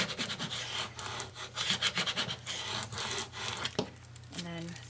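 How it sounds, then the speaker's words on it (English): Firm rubbing of transfer tape onto vinyl lettering for a Christmas countdown project, a close, continuous scraping rasp in repeated back-and-forth strokes lasting several seconds. "Just give all this a really good rub"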